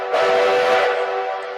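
A steam locomotive whistle in a train video game gives one loud, sustained, steady blast of layered tones that carries unbroken for well over a second before easing off.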